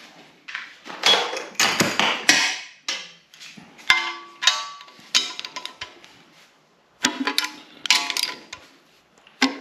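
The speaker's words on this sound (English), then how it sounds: "these bolts got to come back off" Bolts coming off a Honda K24 engine part: a busy run of metallic clinks, taps and ratcheting clatter, close and fairly loud, with a brief pause before the clanking resumes.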